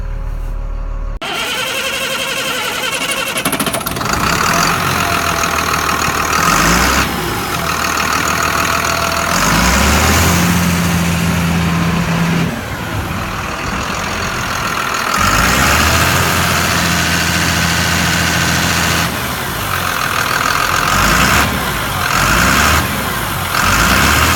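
A Caterpillar IT28F wheel loader's diesel engine runs steadily at idle nearby, a continuous low rumble with a few shifts in tone, heard alone without talk.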